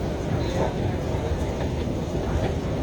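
Bengaluru metro train at Majestic Kempegowda station gives a steady, loud rumble of wheels and carriage noise that fills the whole stretch, with crowd murmur under it.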